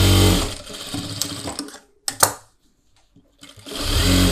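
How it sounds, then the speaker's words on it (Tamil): A sewing machine runs in loud, steady bursts while stitching a blouse collar, stopping briefly with a few small clicks before whirring up again. "ஒரு 3/4 இன்ச்சில் மடித்து சும்மா ரப்பாக ஒரு தையல் போட்டுக்கோங்க."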